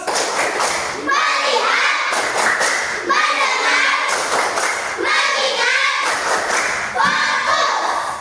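Primary school children in a classroom perform a rhythmic 'focus clap' together, their sharp group claps in a steady pattern mixed with chanting young voices, loud and close throughout.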